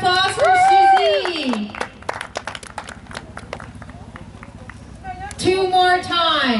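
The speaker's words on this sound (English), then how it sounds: "Big round of applause for Susie." Crowd at a ranch rodeo clapping briefly between an announcer's loud amplified calls, a scattered patter of applause under the voice with outdoor arena noise.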